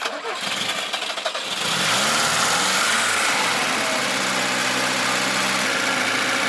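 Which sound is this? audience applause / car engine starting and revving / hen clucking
car engine starting and revving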